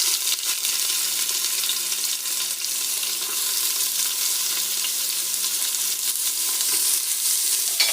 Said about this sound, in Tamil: இப்போ வெங்காயம் ஆட் பண்ணிக்கலாம்.